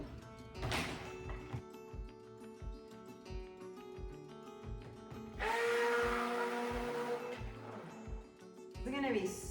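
A coconut milk soap batch with white kaolin clay gets mixed with a handheld stick blender. The motor bursts on briefly and then runs steadily for a few seconds, with clunks and knocks between the runs and a voice talking nearby.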